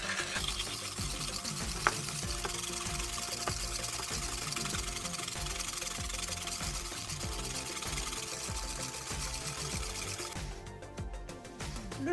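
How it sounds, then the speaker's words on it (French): Sugar and egg yolks being whisked together in a bowl, a steady, continuous rhythmic scraping and clatter running the whole time at fairly close range, with no voices. "Je viens mélanger le sucre et les jaunes d'œufs et je mélange."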